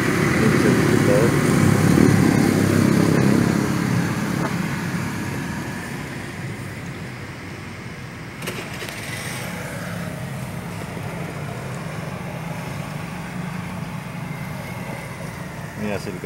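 A 2019 Mitsubishi Xpander 1.5L fitted with an HHO fuel saver idles close by, a steady engine and exhaust drone that swells early and then settles to an even hum throughout.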